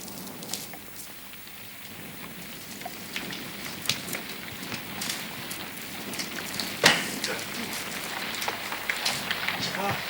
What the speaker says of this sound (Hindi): बस ये वर्षा मुझसे नहीं सही जाती है।